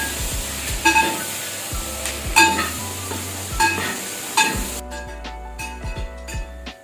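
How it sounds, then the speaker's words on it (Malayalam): Chicken kondattam stirred in a frying pan, with repeated scrapes and clinks of the spoon against the pan over a sizzle that drops away partway, the stirring strokes coming at an irregular, unhurried pace. "എന്നിട്ട് നല്ലോണം ഇളക്കി കൊടുക്കാം."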